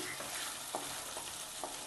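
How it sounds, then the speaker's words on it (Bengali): Spices fried in a pan and stirred together with tomatoes for a rice-and-eggplant dish give a soft, steady sizzle, with a few light scrapes of the spatula recurring through it and no voices. "কিন্তু ভাজা ভাজা হয়ে গেছে। এখন টমেটোর সাথে একসাথে মিশিয়ে নিচ্ছি।"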